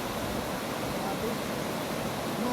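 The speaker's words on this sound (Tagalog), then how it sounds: "Ilog sa sumugot pala ito." A river at Sumogot flows with a steady, even rush of water close by and no voices over it.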